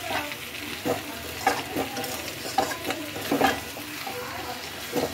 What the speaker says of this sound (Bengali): কেটে রাখা টমেটোগুলো দিয়ে দেবো।